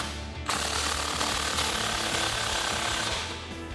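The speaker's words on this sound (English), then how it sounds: "we'll take a 15mm socket to tighten that down" A 15mm socket wrench or power tool tightens the clamp on a cat-back exhaust muffler outlet, giving a loud, continuous rattling mechanical whir that runs for about three seconds before easing off.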